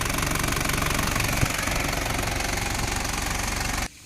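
An Isuzu Adventure engine runs steadily at idle with a rough, rhythmic knocking rumble, close and loud, cutting off abruptly at the end.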